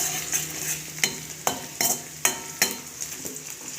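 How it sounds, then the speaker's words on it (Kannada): Garlic crackles and sizzles in hot oil as it fries until crispy and brown, with a run of sharp stirring scrapes of a spoon against the pan spaced about every half second over a steady hiss. "ಸ್ವಲ್ಪ ಕ್ರಿಸ್ಪಿಯಾಗಿ ಕರಿಬೇಕು ಬೆಳ್ಳುಳ್ಳಿನ, ಕಂದು ಬಣ್ಣ ಬರೋ."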